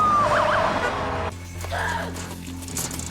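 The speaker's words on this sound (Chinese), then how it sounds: "但源源不断的警车开始赶来。" Wailing police sirens from arriving patrol cars in a dramatic film scene, a rising and falling siren tone up front that cuts to a busier layered street mix with further siren swells, fairly loud.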